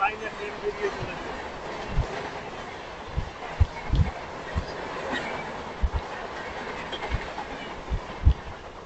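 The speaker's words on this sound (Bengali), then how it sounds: "উপরের দিকে একটি লাইনে ট্রেন বেরিয়ে চলেছে।" A MEMU express train runs along a railway line near a cement factory close to Madhukunda on the Damodar, heard as a steady rolling rumble with rhythmic wheel thumps and clacks, recorded on board.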